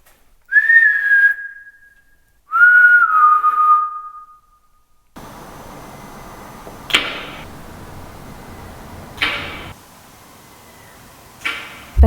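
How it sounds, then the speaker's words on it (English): Two drawn-out whistled notes sound clearly in a quiet space inside a prison, followed by background hiss and a few sharp knocks or clicks. "You hearing whistling?"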